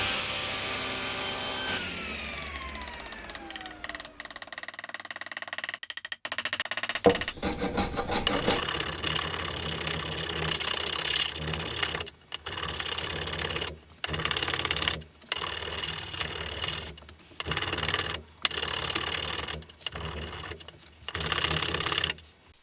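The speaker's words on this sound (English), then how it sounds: "That's quite a hefty lump to be moving through the planer." A jointer planer machines a hefty timber bench board in a long stretch of loud, continuous broadband cutting noise, broken by several abrupt stops and restarts as the board is fed through. A descending whine is heard near the start.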